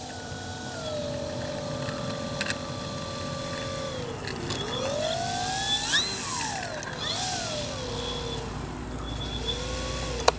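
A Flex Innovations RV8 electric RC airplane flies past with a whining motor that rises and falls in pitch as it passes overhead and moves off. The sound stays steady and mid-distance, with no speech.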